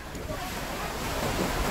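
Ocean surf rolls in at a busy beach, a steady broad wash of waves mixed with wind noise on the microphone, loud and close for a brief moment.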